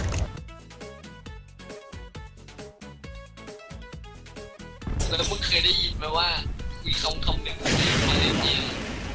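Rapid automatic machine gun fire in Garry's Mod, sharp repeated bursts up close, mixed with booms and game effects, while people talk excitedly over the shooting.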